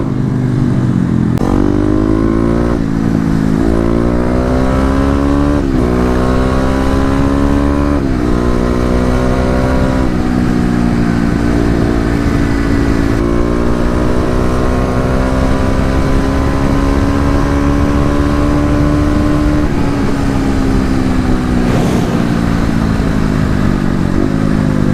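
A Kawasaki KLX250 dirt bike engine revs hard at full throttle through repeated rising gear pulls, loud and close, its pitch climbing and dropping across the run.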